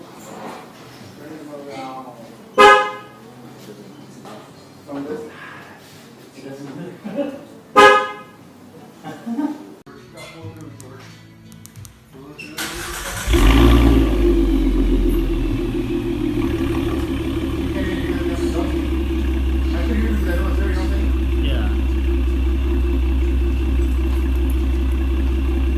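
A 2016 V6 Ford Mustang fitted with a Corsa exhaust and shorty headers starts after some talk. It settles into a loud, steady, deep idle rumble that fills the rest of the clip.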